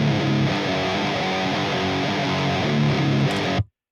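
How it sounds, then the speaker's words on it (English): A metal guitar plays through a Metal Zone distortion pedal into an Evo amp, giving a dense, loud, fuzzy, sustained riff that cuts off abruptly at the end. "it just introduces a little bit more fuzz and distortion"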